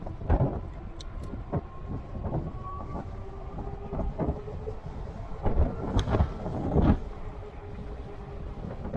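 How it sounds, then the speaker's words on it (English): Strong wind buffets and roars in heavy, irregular gusts, with low rumbling blasts and occasional sharp knocks, loud and close. "It's so windy right now!"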